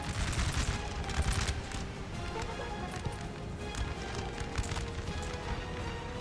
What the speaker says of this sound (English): I think my artillery is firing on these 3 Roman Empire units there